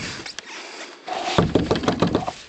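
Knocks on a door in a video game land as a series of sharp, wooden raps, a few sparse ones at first, then a quicker burst of about eight hits over a soft ambient background.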